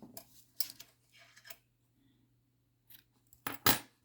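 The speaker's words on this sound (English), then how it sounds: "just cut your yarn" Scissors snip through yarn while finishing a crocheted pumpkin, a few quiet, close metallic cuts spaced apart, with a pair of sharper snips near the end.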